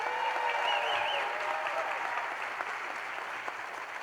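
Steady round of clapping from the crowd at a Poudre School District celebration honouring student workers, holding at an even level with faint cheers and gradually easing.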